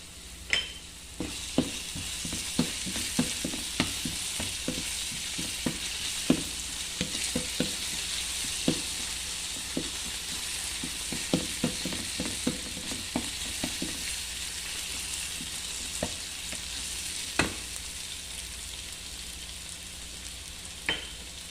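Meat fries with garlic in a pan while tomato is being cooked, giving a continuous close sizzle broken by many irregular scraping stirs and clicking utensil strokes throughout.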